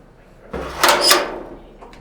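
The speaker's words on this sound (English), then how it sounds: "That's a very heavy door indeed. This is one of the heavier doors on the boat." A very heavy door aboard the RRS Sir David Attenborough polar research ship opens with a close thud followed by a scraping, grinding swing that fades away.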